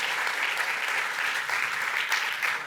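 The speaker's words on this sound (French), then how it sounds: "Vous pouvez l'applaudir également." Steady audience applause at a mentalist show, a dense even wash of clapping that holds at a constant level throughout with no voices over it.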